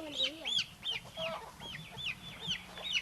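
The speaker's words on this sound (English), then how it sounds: "Got a little chicken." A small chicken clucks repeatedly in a home yard, with sharp chirpy calls recurring in quick bursts close by over faint background noise.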